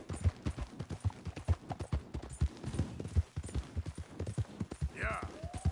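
Rhythmic hoof clip-clop of a galloping horse in the video game Red Dead Redemption 2, steady and prominent, with a brief whinny-like sweep near the end and a rider's voice urging it on.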